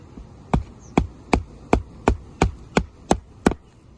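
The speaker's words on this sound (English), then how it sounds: "But I have to continue nailing. So I got to put one here." A nail is hammered into a sheet of roofing material with delaminating corners: nine sharp, evenly spaced hammer strikes land about every 0.4 seconds, close and loud with no voice.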